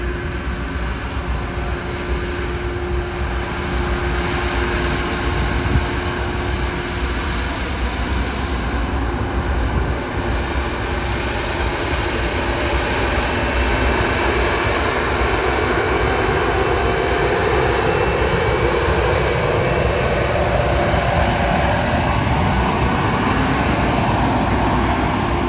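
A crop-spraying aircraft passes over farm fields near a railway, its engine drone steady and continuous, swelling gradually louder as it approaches, with no talking.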